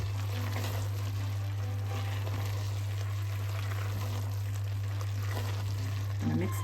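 Sudanese gheema frying in a pan as potatoes and carrots are added, a steady, close sizzle with occasional stirring and clatter, under a constant low electrical hum.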